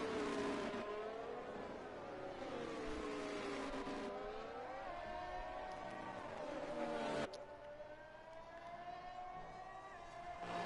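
McLaren F1 car engine in a racing video game, a high-pitched sustained whine that rises and falls with throttle and gearshifts, steady and close as if on board, one abrupt shift partway through.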